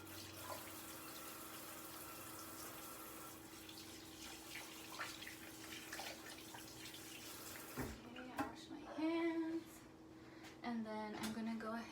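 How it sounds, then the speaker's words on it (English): Tap water runs into a kitchen sink for hand washing, a faint steady splashing stream, with a person talking over it near the end. "I'm gonna go ahead and wash my hands."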